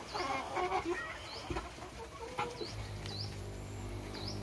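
Free-range Dominant CZ chickens cluck and chatter in a ranging area, several birds close by with repeated short calls over a low background hum.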